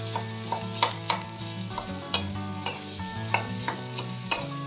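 Boiled potatoes stirred in a pan over medium heat for veg patties, with repeated sharp scraping and clinking of the spoon against the pan in an irregular rhythm over a low sizzle, close and clear.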